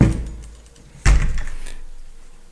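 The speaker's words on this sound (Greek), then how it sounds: "Αυτός ήταν ο ήχος της πόρτας που άκουσα ξανά." A door thuds shut with a single solid bang partway through, following a low rumbling movement. A short rattling decay trails off after the impact.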